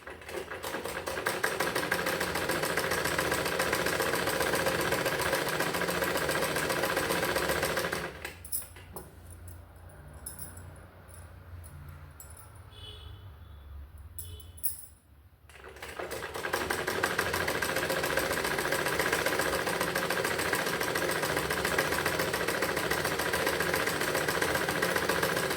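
Sewing machine stitching nighty material for a six-panel anarkali, a steady close mechanical whirr running continuously, pausing for several seconds partway through, then resuming at the same loud even pace with no talk.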